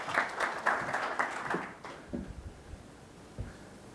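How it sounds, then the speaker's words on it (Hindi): A conference audience claps at a galvanizing event, a burst of applause that fades after about two seconds into scattered faint claps and room noise. "जोरदार तालियों के साथ"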